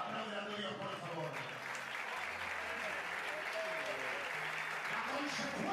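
Church congregation applauding during a sermon, steady dense clapping filling the whole stretch with crowd murmur and some voices underneath.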